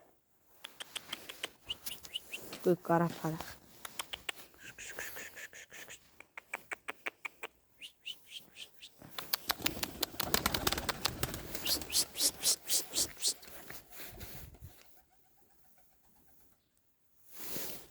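Small birds chirp and coo in bursts, with brief wing flapping, while a person talks nearby.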